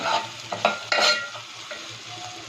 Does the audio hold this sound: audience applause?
no